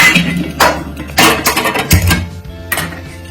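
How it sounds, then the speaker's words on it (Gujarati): An iron tava griddle is set down on a gas stove over a medium flame, giving several loud metallic clanks and scrapes spaced about half a second apart, close by, with no talk. "તવી ગરમ કરવા મૂકી દેશું અને મીડિયમ ગેસની ફ્લેમ ઉપર રાખીશું"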